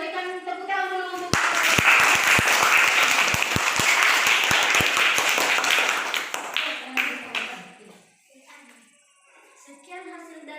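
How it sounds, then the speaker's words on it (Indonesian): Classroom audience applauds a student group after its presentation, a dense burst of many hands clapping that fades out, with speech heard before and after. "Berikan tepuk tangan dulu untuk"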